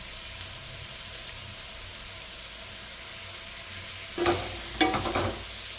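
Sliced potatoes with dried fenugreek leaves fry in a pan for a Gujarati dish, giving a steady quiet sizzle, then two brief scraping stirs near the end.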